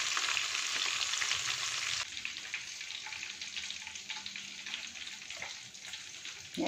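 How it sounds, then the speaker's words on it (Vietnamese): Fish cakes on lolot leaves sizzle loudly in hot oil, then the frying drops to a quieter, uneven crackle after a couple of seconds, with faint clinks near the end. "Chiên như thế này cũng hay lắm các bạn."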